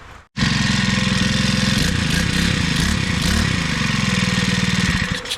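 A grass cutter's small engine runs loud and close with a steady rattling drone, holding constant throughout with slight fluctuations.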